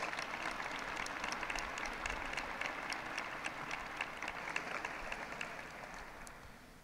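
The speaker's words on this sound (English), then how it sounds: "Let's take a moment again to applaud all who brought you to this milestone today." Large audience applause at a University of Iowa commencement ceremony, a broad continuous roar of many hands in a big hall, heard from a distance and tapering slightly at the end.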